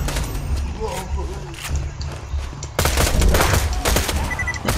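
Gunfire in Borderlands 2, a dense volley of game shots over busy background effects, growing louder and more intense midway through.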